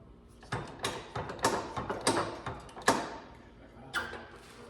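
Dimple dies are pressed into metal for a skid plate in an Amazon knockout press, heard as a string of close metallic clanks and creaking squeezes in uneven bursts, with quiet pauses between strokes.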